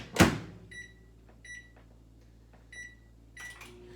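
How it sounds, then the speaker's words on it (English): A microwave oven heating a covered dish for one minute gives a low steady hum, opening with a sharp thud followed by several short, evenly spaced beeps. "when you take this out of the microwave, you're not burning your fingers"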